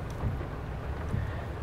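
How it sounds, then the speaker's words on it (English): Steady rain pours down in the farming game Farming Simulator 22, a low, continuous rumbling wash with faint distant thunder-like swells and no talking. "And yes, it is indeed raining."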